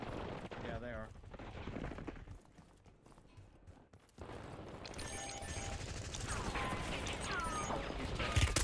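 Gunfire in Call of Duty Warzone, Black Ops 6 Resurgence on the Area 99 map: a dense burst of shots and game noise, then a quieter gap, then sustained rattling fire with a voice talking over it.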